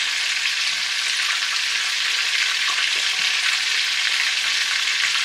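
Eggs fry in hot oil for a Thai dinner cooked outdoors, giving a loud, close, continuous crackling sizzle with no talking.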